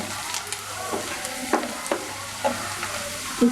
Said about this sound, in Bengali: পেঁয়াজটা হয়ে এসেছে, আমি এখন এখানে ম্যারিনেট করা মাংসটা দিয়ে দিব।